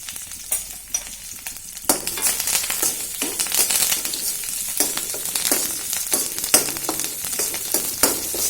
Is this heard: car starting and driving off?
no